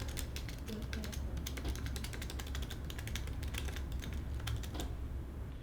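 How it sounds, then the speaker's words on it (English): Keys on a Keychron mechanical keyboard clack in a fast, steady typing rhythm, close and crisp, with light clicks under a low background hum. "These ones feel like more, if you can hear, it's lighter, like a lighter click."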